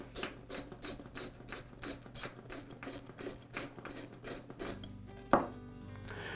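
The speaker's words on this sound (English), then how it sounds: "then I'll use a socket to remove the screw" Socket ratchet loosening a tight screw on the pulley of a Porter Cable air compressor pump, a steady run of about fourteen rapid, even clicks, close and distinct, ending in a short metallic clunk.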